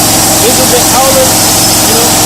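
An HP DMC CNG compressor of about 50 cubic meters per hour runs fast and loud nearby, a dense, steady mechanical hum and rattle with no pauses.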